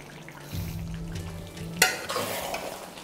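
Chicken masala with chopped coriander is stirred in a pan, a soft sizzle under a few scraping spoon strokes with one sharper clink midway.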